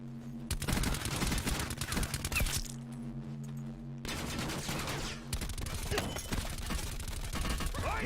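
Rapid, dense gunfire in Call of Duty Black Ops 4 Blackout, sustained loud automatic bursts almost throughout, with one short lull in the middle.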